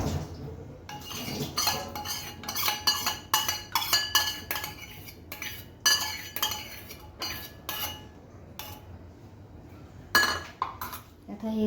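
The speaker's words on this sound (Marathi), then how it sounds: "आपल्याला आता यामध्ये घालणार आहोत मिल्क पावडरचा घोळ." Milk powder mixture added to a pot while making vanilla ice cream, with scattered close metallic clinks and taps of a utensil against the pot at an uneven pace.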